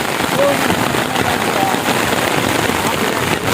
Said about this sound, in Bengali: তুমুল বৃষ্টি